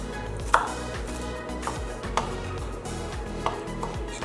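Knife chopping green bean stems on a cutting board for pico de gallo, a series of sharp, close taps at uneven intervals, roughly six to eight cuts with no talking.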